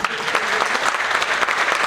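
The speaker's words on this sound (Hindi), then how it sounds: "बहुत तेज जो है तालियां बजी।" An audience at a LIC agency gathering claps loudly and steadily in a dense, even burst of applause that lasts throughout.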